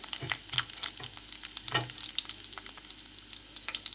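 Garlic cloves and halved dried red chilies fry in hot oil for a Telugu dal dish, a bright crackling sizzle with uneven bursts and spatula scrapes, close and loud, no talk.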